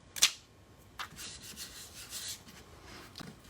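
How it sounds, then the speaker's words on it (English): Short rubbing and rasping strokes as a paint transfer is burnished onto a piece of furniture, one sharp scrape followed by softer, quieter passes, close and with no talking. "I'm going to put it back down and burnish some more."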